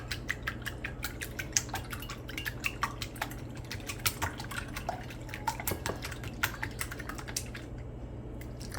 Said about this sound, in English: They're just going to whisk the egg.